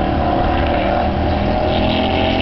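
A Ford Mustang race car with a 351 Windsor V8 roars steadily at a dirt raceway, a loud sustained engine drone without a break.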